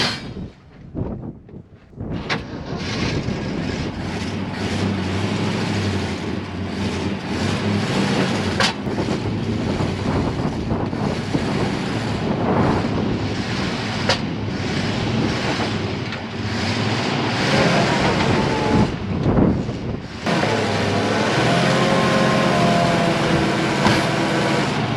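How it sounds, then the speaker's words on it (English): A 1972 Ford F-250 truck engine labouring as the truck is driven out of a hole, a loud rough continuous roar with metallic clangs and bangs and a brief dip partway through. "let's go ahead and see if we can't get this truck out of the hole it's sitting in."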